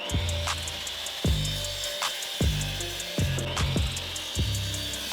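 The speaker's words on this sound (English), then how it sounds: "Make it a good old line and head to the miter saw." Miter saw cutting a 2x4 board, with repeated short cuts and whining motor bursts, each followed by a spin-down, over a steady workshop hum.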